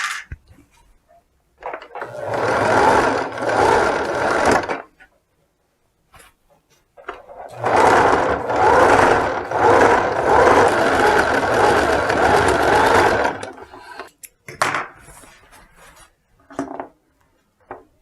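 A sewing machine backstitches fabric for a mini fur vest in two long stretches of steady, close stitching, with short rubbing and handling noises between and after them.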